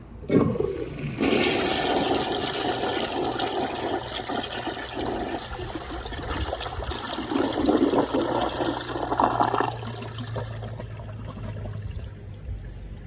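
A Rheem Claymore flushometer toilet flushing a washcloth: a loud, sudden rush of water that roars steadily for about ten seconds, then eases into a quieter trickle as it refills, heard close with no talking.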